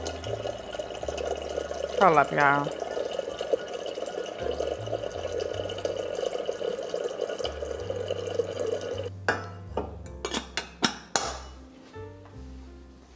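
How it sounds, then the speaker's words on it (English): Water runs from a tap into a cup for instant coffee in a home kitchen, a brief trickle early on under talk, followed by several sharp knocks and clinks of a cup being handled. "Getting some water right here."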